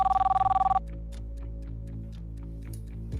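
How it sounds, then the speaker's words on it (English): Telephone bell ringing in rapid repeated pulses for under a second on a game show signalling an incoming call, then cutting off into a quiet hum with faint ticks. "we have a phone call coming in"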